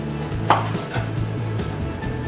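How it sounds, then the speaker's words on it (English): A sharp knife slices a lime thinly on a board in a home kitchen, a few soft knife taps and cuts in a quiet room with no talking. "you get a lime, not a lemon, a lime, and you just slice it very thinly"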